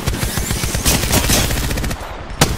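Sustained automatic gunfire in the video game Apex Legends, a fast rattling stream of shots that breaks off near the end, followed by one sharp single crack, loud and close.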